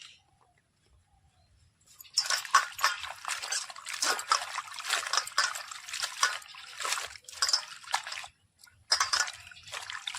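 Surimala flowers get washed in water, with close, soft splashing, trickling and squishing as they are rinsed by hand in bursts, after a quiet start, with a brief pause near the end.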